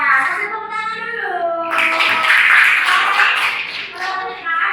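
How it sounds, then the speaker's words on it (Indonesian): Schoolchildren in a classroom clapping hands for a presenting group, a short burst of rhythmic clapping rising after a teacher's voice, with talk before and around it. "Kasih tepuk tangan dulu."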